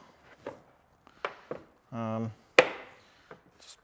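Scattered light plastic clicks lead up to one sharp, loud pop as a lower door insert panel snaps into place on a CFMoto Z950 Sport motorcycle. A short hum is heard just before it.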